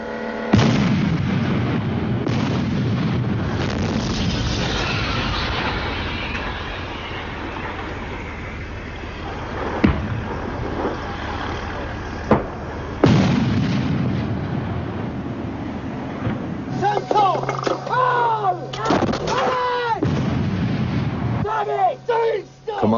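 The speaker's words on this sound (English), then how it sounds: "When you fire this 105mm gun, the whole turret is filled with explosion" A 105mm tank gun fires with heavy booming blasts and rumbling reverberation in a battle setting, loud and repeated, with sharp reports and a voice talking over parts of it.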